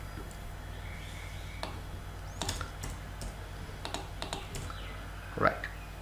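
Scattered computer keyboard keystrokes with a few sharp clicks, heard up close under a faint hum, as Ctrl+X and Ctrl+V shortcuts are typed in a quiet room.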